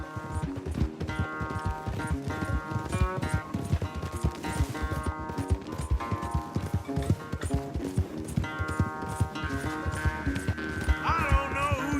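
Horses gallop in Red Dead Redemption 2 during a race back, with rapid, steady hoofbeats running continuously and close over a music bed and other game sound.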